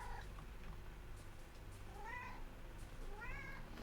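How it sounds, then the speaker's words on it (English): A house cat meows twice, quiet and close, rising calls a second or so apart over a low steady background hum. "Bad cat. Tried to chew the headset cable."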